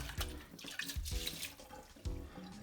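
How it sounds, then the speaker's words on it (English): Water splashing and trickling from rinsed rice in a colander at a kitchen sink, irregular close splashes and drips with brief louder gushes, fairly quiet and without talking. "let it sit for like about a minute so that all the water goes down"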